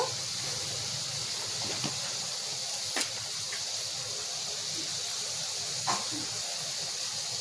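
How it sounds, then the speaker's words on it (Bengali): Potatoes frying in oil in a pan, a continuous soft hiss and sizzle with a few faint clicks and pops, steady and close with no talk. "আলুগুলোকে ভালো করে ভেজে নেব"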